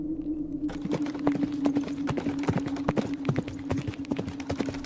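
Horse hooves clip-clopping at a steady walking rhythm, close and distinct, over a constant low hum, used as a sound effect beneath narration.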